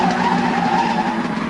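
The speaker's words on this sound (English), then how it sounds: "They threw themselves out of the way of the screaming sports car as its wheels sprayed dust and gravel in all directions." A screaming sports car skids with its wheels spraying dust and gravel, making a steady, loud roar and tire hiss that runs throughout, part of a 1985 GoBots audio story.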